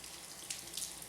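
Soft, steady trickle of water from a garden hose running over a car's painted body during a rinse, faint and continuous with a few slightly louder splashes.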